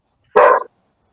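One loud, short dog bark close to a microphone on an online call, sharp and sudden against otherwise silent surroundings.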